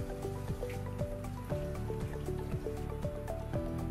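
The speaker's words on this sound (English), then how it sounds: "So I'm just rinsing out the conditioner." Water runs and splashes steadily as conditioner is rinsed out of soaking wet hair, a continuous close patter of droplets with faint clinking underneath.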